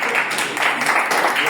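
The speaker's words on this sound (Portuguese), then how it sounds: "Dá uma linda salva de palmas para Jesus" A church congregation bursts into sustained applause, a dense wash of many hands clapping at steady volume throughout, with voices mixed into the crowd noise.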